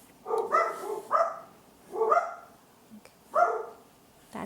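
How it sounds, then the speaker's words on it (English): Indoor dogs barking at the mailman, four loud, close barks in uneven bursts separated by short pauses, with no talking. "Sorry about the dogs. I think the mailman is here."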